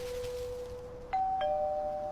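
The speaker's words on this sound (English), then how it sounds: "the doorbell just rang again" A two-tone doorbell chime sounds at night around Halloween, a steady lower tone followed by a higher ding-dong pair, clear and close with no talking.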